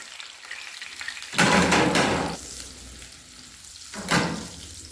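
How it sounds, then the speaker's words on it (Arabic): Julienned onion strips drop into a hot tray of oil with two loud bursts of crackling sizzle, a big one followed later by a shorter one, over a softer steady frying hiss, close up with no talking. "دلوقتي هبدا انزل بالبصله بتاعت الجوليان"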